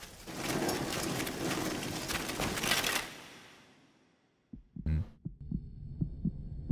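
An anime heartbeat sound effect follows a loud dense wash of sound that fades out, then comes in as a few heavy, low, throbbing thumps in quick succession.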